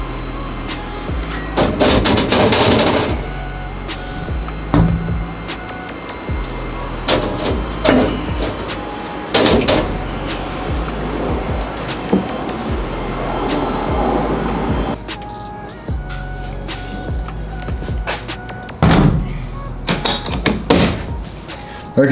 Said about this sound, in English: loaded up with some sand, and start blasting